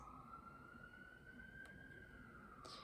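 A faint siren wails far off, its tone slowly rising and falling beneath a quiet hiss of background noise.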